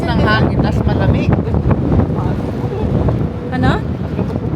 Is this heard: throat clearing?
no